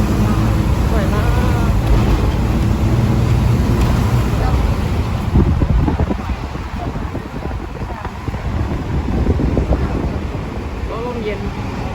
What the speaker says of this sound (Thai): ลมเย็น